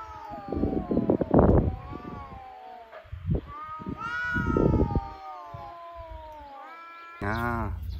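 A pet cat meows repeatedly indoors, drawn-out close cries between a person's voice calling and talking to it, with a final short meow at the end.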